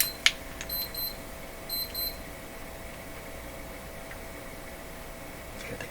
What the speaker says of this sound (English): I got an alarm going.